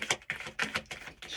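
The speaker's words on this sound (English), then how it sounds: "I'm gonna do a little shuffle." Tarot cards being shuffled by hand, heard as quick close riffling bursts repeating in an uneven rhythm, quiet and without talk.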